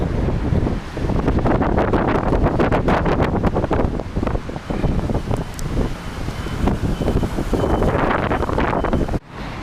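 Strong, cold January wind blows outdoors in a winter resort town in Alanya, roaring and buffeting the microphone in continuous loud gusts that end in a sudden cut.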